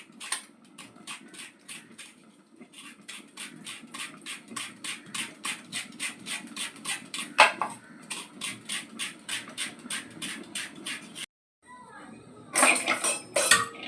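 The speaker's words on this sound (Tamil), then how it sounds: "மீன் குழம்புக்கு தேங்காவை துருவி எடுத்துக்குவோம்." Coconut is grated by hand for a Kerala-style fish curry: quick, evenly spaced scraping strokes repeat up close, pause briefly near the end, then resume in a louder burst.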